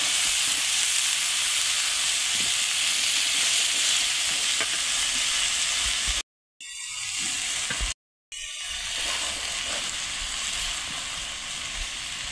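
Chunks of taro sizzle and fry steadily in a pan of cooked-down spiced masala, a dense continuous hiss with stirring, broken by two brief silent gaps.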